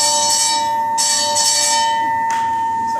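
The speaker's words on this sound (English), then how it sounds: "a fire gong to wake the firemen up in the middle of the night," A fire gong, once used to wake firemen at night, ringing in a music museum in Traverse City, Michigan: loud, sustained metallic clanging with bright overtones, struck repeatedly in quick bursts that ring on between strikes.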